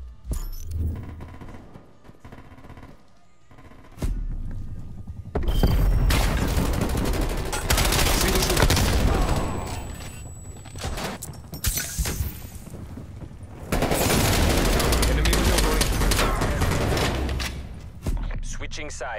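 Sustained gunfire in Black Ops Cold War, a VIP escort match on the Garrison map: heavy automatic bursts and volleys, loud and close, interrupted by short quieter lulls, with voices talking over the shooting.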